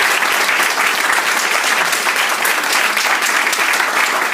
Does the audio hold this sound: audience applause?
yes